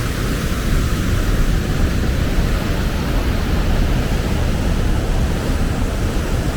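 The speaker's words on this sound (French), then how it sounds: "Un deuxième petit lac ici avec à nouveau des cascades derrière." Waterfalls roar behind a small mountain lake on the trail near Sulitjelma, Norway, a steady broadband rush of falling water that holds at an even level throughout with no voices.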